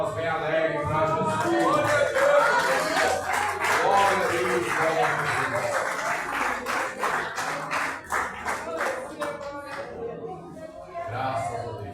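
Church congregation clapping along during a Communion service, steady rhythmic hand claps mixed with voices and music, with a voice praising God over the claps throughout.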